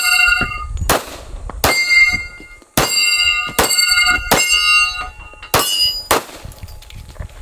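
Springfield Armory 1911 .45 ACP pistol rounds striking steel targets, seven sharp ringing clangs spaced about a second apart, each leaving a bright metallic ring that fades quickly.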